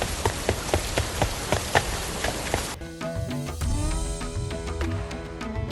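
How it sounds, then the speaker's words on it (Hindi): Heavy rain pours down in a cartoon storm in a forest, a dense steady hiss with a few pattering drops, then shifting under a quieter scene with soft music-like tones. "कितनी तेज बारिश हो रही है,"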